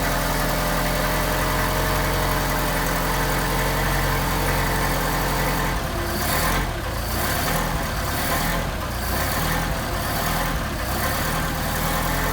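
A Mercedes 190SL engine with Solex carburetors idles steadily while warming up, a loud close continuous rumble whose tone shifts slightly midway as the choke and fast idle are worked.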